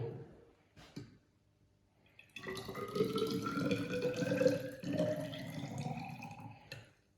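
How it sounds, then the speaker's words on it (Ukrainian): Hot water pours steadily into a measuring cylinder, the pitch rising as it fills, after a couple of faint clinks; close and fairly quiet. "Влиємо у мензурку"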